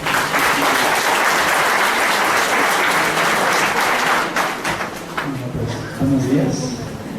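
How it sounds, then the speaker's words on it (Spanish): An audience at an academic discussion on violence claps loudly for several seconds. The applause fades away, and a voice begins to speak. "Un aplauso para él, por favor"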